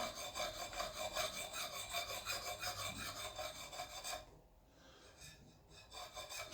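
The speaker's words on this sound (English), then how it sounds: "going to hone off the edge" A sharpening stone rasping along the edge of an axe with a white oak handle, steady rhythmic rubbing strokes that go quieter for a moment before picking up again.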